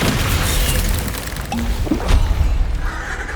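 A Descendo spell slams an enemy during a goblin attack on Feldcroft in Hogwarts Legacy: a loud, dense booming crash over continuous rumbling game noise, lasting the whole moment without speech.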